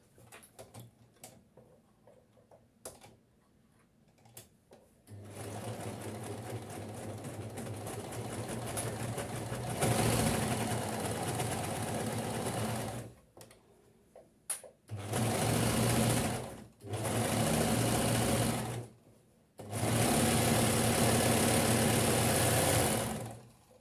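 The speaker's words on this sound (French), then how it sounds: "je fais la surjeture, je vais remonter la couture et je fais une surpiqûre par-dessus" A sewing machine overlocks and topstitches a shirt seam, running in several loud, steady mechanical bursts separated by short quiet gaps with faint handling clicks.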